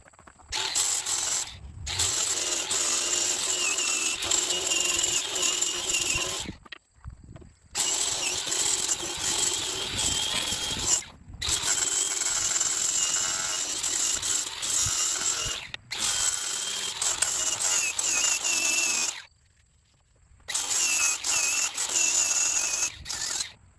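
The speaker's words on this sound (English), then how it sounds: "I'm going to let that dry and then I'll just sand it off." A power sander works a walnut wine rack fitted with a wood bowtie and epoxy, running in loud, steady bursts of several seconds each with brief silent gaps between them.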